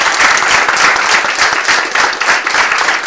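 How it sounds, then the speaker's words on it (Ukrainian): Loud, sustained applause from an audience at a Mykolaiv regional Lawyer of the Year awards ceremony, many hands clapping in a dense, even roar with a faint rhythmic pulse. "хотів би попросити привітати вас усіх нагороджених вашими щирими оплесками"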